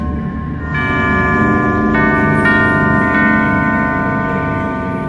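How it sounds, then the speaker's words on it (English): Bell tones from the video game Alice: Madness Returns ring in a sequence to open a sealed door, with sustained, overlapping metallic chimes entering one after another and ringing steadily over a low ambient hum, with no talk. "Only by playing the correct sequence of bells can it be opened."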